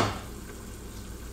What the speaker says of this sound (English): Yeah, it's like still boiling.